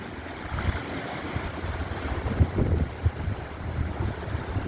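Steady rushing river water roars under a bridge throughout, a broad turbulent wash with occasional louder surges, close and continuous with no voices.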